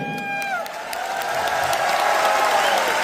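Audience applauding at a company event for the CMD, a dense, loud, continuous wash of clapping with a few whoops, and a voice speaking briefly at the start.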